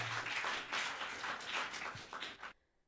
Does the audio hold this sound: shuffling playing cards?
no